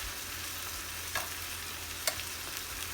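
Beef strips frying in a pan over medium-high heat give a soft, steady sizzle with a couple of brief clicks, close by and fairly quiet.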